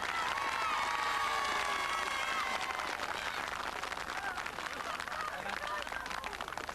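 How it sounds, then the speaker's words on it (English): Studio audience applauding a stalemate in a greasy pole egg race contest, sustained and fairly loud, with voices chattering and cheering through it. "Round of applause for them both."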